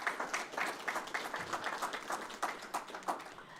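Scattered clapping from a city council meeting audience, faint and distant, a few seconds of uneven hand claps without speech on top.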